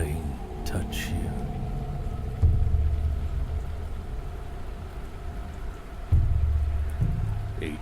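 Rain falling in the video game Dive or Die, a steady dense hiss of downpour with low rumbling swells, while a voice narrates over it.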